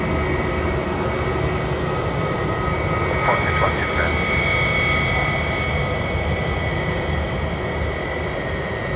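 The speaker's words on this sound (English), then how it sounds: "Jetstar just passed by in front of us." A Jetstar jet airliner passes by at Sydney Airport, its engines producing a loud, steady roar that fills the whole stretch without fading.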